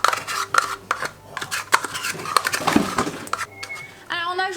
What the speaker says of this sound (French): Et on va mélanger ça pour que le beurre s'incorpore bien dans le tout.